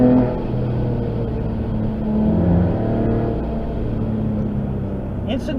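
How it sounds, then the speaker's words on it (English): Porsche 996 engine pulling in second gear on a winding road, a steady low growl and rumble heard from inside the car that builds slightly as it accelerates, continuous throughout with a brief knock near the end. "so I can let you hear it growl a little bit"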